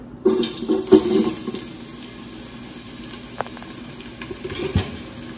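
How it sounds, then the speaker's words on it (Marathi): Chopped onion dropped into plenty of hot oil for chicken biryani, a loud initial hiss and a few clattering stirs, then a steady softer sizzle with occasional scrapes near the pan. "सगळ्यात पहिला आपण त्यामध्ये कांदा घालणार आहोत."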